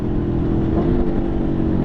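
Aprilia Tuono V4 motorcycle engine running, a steady loud low drone with rumbling exhaust and wind roar heard while riding, continuous with no talk.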